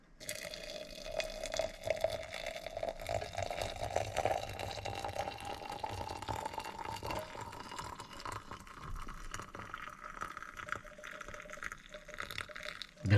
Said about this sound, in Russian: Заливаем наш шиповник.